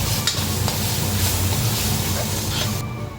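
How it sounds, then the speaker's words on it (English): Keema masala fries in oil and is stirred as the onions brown, a dense, steady sizzle with scraping stir sounds close by that fades slightly at the end; no one speaks. "we'll cook it till the time the masala is not completely done"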